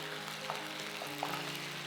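Ginger-garlic paste cooks with onions in oil for Arabian chicken, making a soft, even sizzle over a short stretch.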